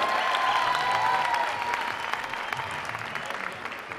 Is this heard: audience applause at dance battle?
yes